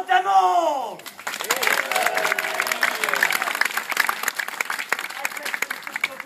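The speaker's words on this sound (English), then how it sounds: "let us applaud them all!" A crowd honoring fallen soldiers at a Yorktown commemoration in Williamsburg breaks into steady applause that runs for several seconds, following a brief raised voice at the start.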